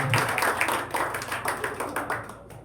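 A church congregation claps hands together in a quick, steady rhythm, many hands at once filling the room, with the beat continuing throughout.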